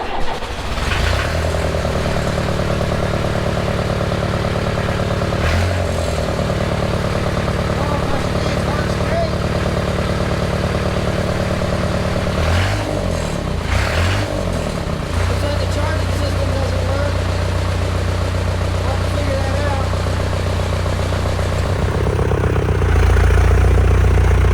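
Diesel engine of a 1963 International B414 tractor running on a test run with the throttle set, a loud continuous chugging rumble with a few brief level shifts and a louder surge near the end.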